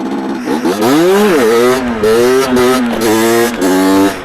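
A stock 50cc moped engine revs during a wheelie, its pitch rising and falling loudly in repeated surges as the throttle opens, eases and opens again, close by with no talking.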